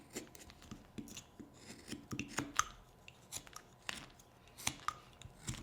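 Quiet, close scraping and shaving cuts of a carving knife on a wooden bear figure, heard as irregular short rasps and snicks with pauses while the piece is turned.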